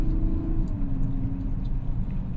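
A 2024 Mazda CX-90 engine hums steadily while driving, a low, even drone heard from inside the cabin with no talk.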